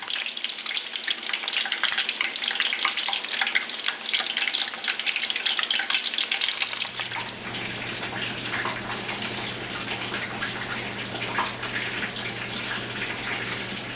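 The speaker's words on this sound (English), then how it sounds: "The tater tots are frying up." Tater tots fry in oil at a little over 350 degrees, sizzling and crackling loudly and steadily, a dense hiss that settles into a lower, even fizz partway through with a faint hum underneath.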